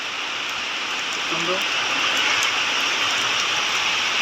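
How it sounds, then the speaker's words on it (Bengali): Steady rain falling outside, a constant even hiss of drops on surfaces, fairly close and unbroken throughout, with a brief spoken word over it. "এইটা বৃষ্টি হচ্ছে, দেখুন বাইরে"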